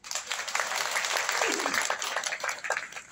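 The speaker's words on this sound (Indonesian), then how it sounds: "Tepuk tangan untuk ibu-ibu." A church congregation claps throughout a Sunday sermon service, a steady crowd applause that swells and holds, with a voice briefly speaking under it.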